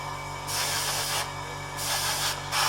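An airbrush or spray gun sprays thin paint onto a flap of a 1/32 Trumpeter Corsair model aircraft, in three or four steady hissing bursts of about a second each over a low background hum.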